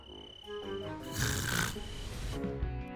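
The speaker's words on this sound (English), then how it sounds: "It's hard to get rest when you snore through the night." Loud, rasping snores from an elderly man asleep at night, two or three drawn-out breaths close to the microphone, with no talking.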